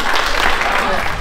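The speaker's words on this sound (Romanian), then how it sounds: "Aplauze pentru colegul Dragoș Stan." Short applause on a group excursion greeting a colleague, Dragoș Stan, dense steady clapping close by with voices mixed in throughout.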